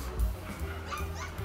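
Several dogs in a pet shop at a shopping mall yip, whimper and bark in short, close bursts over a busy indoor background.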